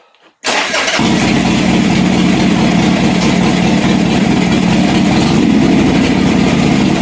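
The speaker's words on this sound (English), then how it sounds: "like I set the idle a little high. That started up a lot better than I thought it was going to." A Harley-Davidson Sportster motorcycle fires up after a short quiet moment and settles straight into a loud, steady, throbbing idle set slightly high, close to the listener, with no talking.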